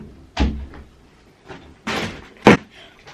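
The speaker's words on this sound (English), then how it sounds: "Okay, one second, I'm gonna close the door." A bedroom door is shut late at night, giving a handful of separate knocks and thuds spread over a few seconds, close by and moderately loud, with quiet pauses between them.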